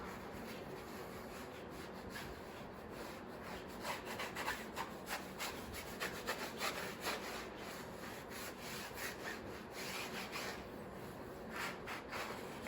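A brush scrubs a Boss 302's wheel during a wash, making quiet, rhythmic rasping strokes that speed up and bunch together in the middle, faint and close with no voices.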